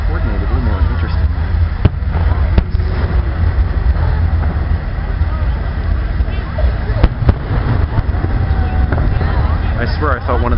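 Fireworks burst over the Golden Gate Bridge during its 75th anniversary show, a steady roar of crackling and booming with sharp louder bangs scattered throughout, heard from a distance amid crowd chatter and wind.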